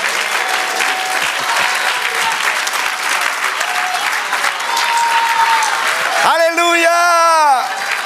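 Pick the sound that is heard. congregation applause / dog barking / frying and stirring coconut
congregation applause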